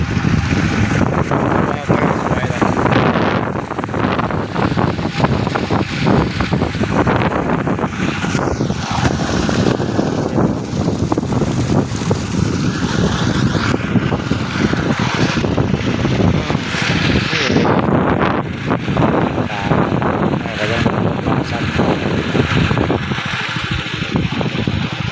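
An engine-driven water pump pumps water out of a fish pond with a loud, steady mechanical drone that runs for the whole stretch, while voices talk over it.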